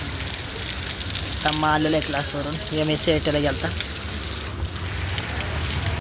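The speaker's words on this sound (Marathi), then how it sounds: "खूप पाऊस पडतोय" A heavy rain shower keeps up a constant broadband hiss in the background while someone talks over it in the foreground.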